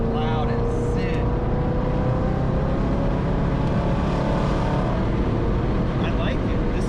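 A supercharged 5.7-litre Hemi car pulls hard in fourth gear, a loud, steady engine roar with whine running throughout, heard from inside the vehicle with voices talking over it.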